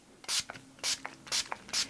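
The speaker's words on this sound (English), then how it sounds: "the LA Girl setting spray" LA Girl makeup setting spray is misted in four short bursts, each a crisp hiss from a pump bottle spaced roughly half a second apart, with faint clicks from the nozzle between sprays.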